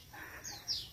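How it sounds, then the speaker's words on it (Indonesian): A small bird in a quiet rural Sundanese village gives a faint, brief pair of thin rising chirps, the second one slightly louder, over soft background hush. "Ada burung ini, burung apa ini?"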